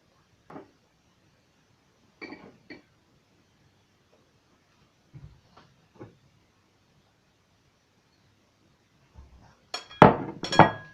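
Ingredients for quiche dough are mixed in a bowl. A few sparse, sharp clinks and knocks sound at first, then a denser burst of clattering and scraping follows near the end.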